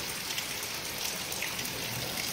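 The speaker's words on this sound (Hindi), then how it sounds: "आई देखिए कितना तेज बारिश हो रहा है।" Heavy monsoon rain pours steadily outdoors under a dark sky, a dense, continuous hiss of drops on surfaces with no break and no voices.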